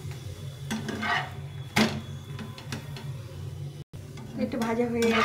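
Lachha paratha fries in oil in a pan, giving a steady low sizzle broken by clinks and scrapes of a utensil, with a voice speaking over it.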